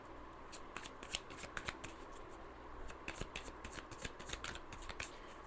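Wicca tarot deck being shuffled by hand, a quick run of crisp papery riffles and soft card slaps repeating steadily at close range, with no voices.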